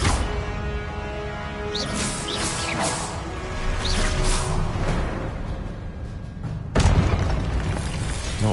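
Confringo and Expelliarmus spells fired in a Harry Potter video game: a dense, continuous barrage of booming blasts, crackles and whooshes, with a sharp fresh impact near the end, all loud and close.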